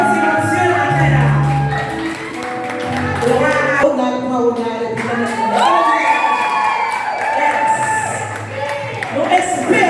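A church congregation with many children cheers and shouts loudly in waves, with claps and whoops through the noise and voices mixed in.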